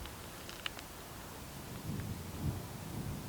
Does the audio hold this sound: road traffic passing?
no